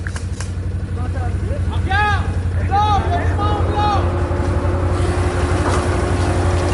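A boat motor runs steadily with a low, constant drone during a military exercise, with wind buffeting the microphone and radio-like voices talking over it.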